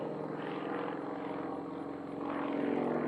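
A Sukhoi SU-31 aerobatic airplane flies an unlimited competition sequence at a national contest, its propeller engine droning loud and steady at a distance, swelling slightly toward the end.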